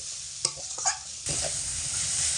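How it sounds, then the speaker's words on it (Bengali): Mung dal fries with spices in a pan, with scraping stirs at the start and then a steady, close sizzle. "সেই জন্য ডাল খুব ভালো করে মশলার সঙ্গে ভেজে কষিয়ে নিতে হবে।"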